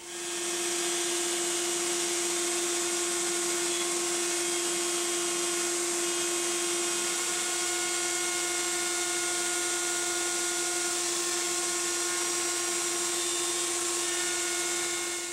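A power drill bores screw holes through a Les Paul Junior style guitar body, a loud, continuous high whine holding one steady pitch throughout with no pauses and no voices.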